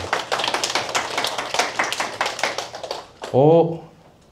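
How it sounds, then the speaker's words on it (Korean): A small group of listeners at a Korean-language talk claps in a dense, lively patter for about three seconds, then a voice takes over. "박수 부탁드립니다"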